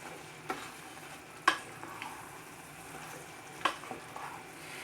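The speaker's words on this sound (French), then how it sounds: "on mélange. Et on laisse mijoter quelques minutes" Ratatouille vegetables simmering in a pot give a faint, steady bubbling hiss, broken by a few sparse clicks of a spoon against the pot as they are stirred, quiet and close.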